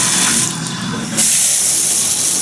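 A hotel shower, a Speakman Anystream head, runs with strong water pressure, making a loud, steady, close-up hiss of spraying water that surges slightly louder partway through, with no talking.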